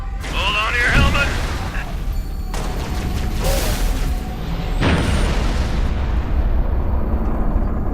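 Heavy artillery explosions from final protective fire in the Halo Reach video game, with loud booms and rumbling blasts near the start and middle over a constant roar, while voices talk over radio.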